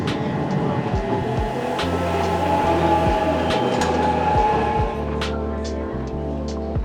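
Onboard a train in Turkey heading toward Topel, a steady, loud low rumble of wheels on rails with periodic clacks at the joints runs throughout, with no one talking.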